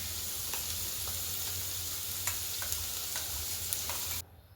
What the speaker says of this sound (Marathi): पाच मिनिटं चांगला कांदा परतून घ्यायचा.